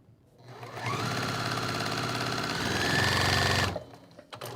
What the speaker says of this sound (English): I'm gonna sew on that creased line.